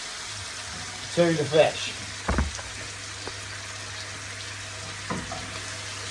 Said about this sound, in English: You'll see it bubbling away there